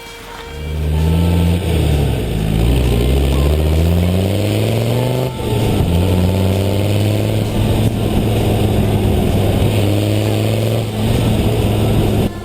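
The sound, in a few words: Land Rover Defender Td5 diesel engine with straight-through exhaust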